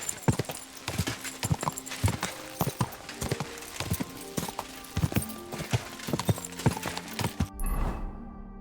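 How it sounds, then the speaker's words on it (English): Steady clip-clop of horse hooves trotting at an even rhythm in the video game Kingdom Come: Deliverance II, close and clear, ending with a brief burst of noise and a low rumble. "Easy. Good horse."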